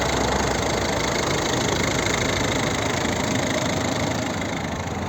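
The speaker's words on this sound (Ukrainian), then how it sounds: "От звук двигуна." A 2010 Volvo V50 facelift's 1.6 diesel engine idles with a constant, even clatter and hum, heard up close and loud without pause and with no voices.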